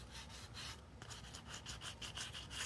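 Light sanding over paint covering rust on a scale model, a steady run of soft rasping strokes, close and quiet, with no one speaking.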